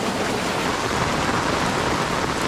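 Steady rain pours over a village, a dense continuous hiss of drops that stays loud and even throughout with no voices.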